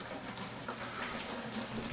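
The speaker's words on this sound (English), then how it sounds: "Water's coming right out." Water running steadily from the faucet of a homemade battery-powered camp sink, a close continuous splashing rush with small gurgles and no talk.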